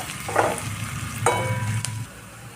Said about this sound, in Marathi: आता त्या देखील आपल्याला यामध्ये थोड्याशा अशा परतून घ्यायच्या आहे